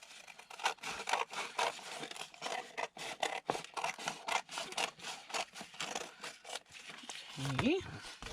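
Scissors trim paper for a December daily scrapbook page, a rapid series of crisp close snips and rustles with brief gaps, ending in a short scrape.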